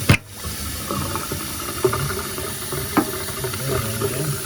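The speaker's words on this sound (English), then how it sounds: "There, the water draining." Water drains from a kitchen sink with the stopper removed, a continuous close hiss and gurgle with a few brief knocks and splashes over it.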